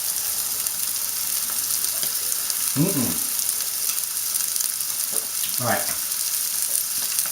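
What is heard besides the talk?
rump steak sizzling in a hot pan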